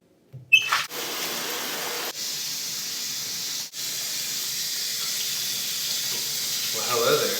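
A shower runs steadily with a loud, constant hiss of spraying water, briefly interrupted a couple of times, with no talk over it.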